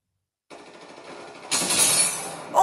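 Automatic gunfire in the battle royale game Apex Legends opens after a short silence as a light rattle, then swells into a louder, harsher burst of rapid shots that keeps building to the end.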